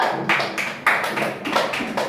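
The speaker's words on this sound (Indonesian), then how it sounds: "Beri tepuk tangan untuk temannya dulu" Schoolchildren clapping for a classmate in a classroom, a few uneven bursts of light claps, moderately close, with faint voices around them.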